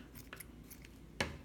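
Quiet scissors snip through a crochet yarn tail: a few faint crisp clicks, then one sharper close cut near the end.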